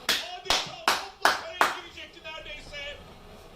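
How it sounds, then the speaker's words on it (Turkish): Several sharp hand claps ring out in an even rhythm, close and loud, from a football fan reacting to a Başakşehir versus Fenerbahçe match, followed by quieter voices. "yine bireysel bir çabaya alkışlıyorum arkadaşlar"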